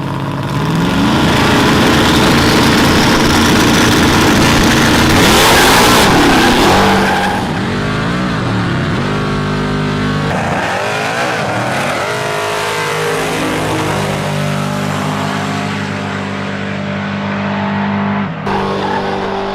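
Street racing car doing a burnout, a very loud roaring engine held at high revs with screeching tyre noise, easing after about seven seconds into lower, shifting engine revs and rumble.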